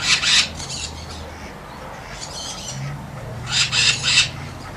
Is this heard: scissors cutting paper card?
no